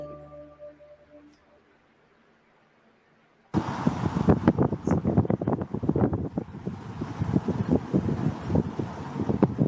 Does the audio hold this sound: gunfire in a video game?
no